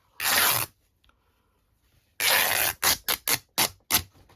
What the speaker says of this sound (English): What you find with fabric is actually it likes to rip one way and not so much the other, but you can get it to rip.